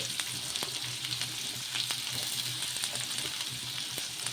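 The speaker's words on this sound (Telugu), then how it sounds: "ఇలా జీలకర్ర ఆవాలు వేసుకున్న తర్వాత ఇందులోకే కొంచెం చిన్నగా కట్ చేసి పెట్టుకున్న ఆనియన్స్ ముక్కలు అలాగే కొన్ని పచ్చిమిర్చి" Chopped onions and green chillies fry with cumin and mustard seeds in hot oil for a bottle gourd bun dosa, giving a steady close sizzle with small crackles and pops throughout.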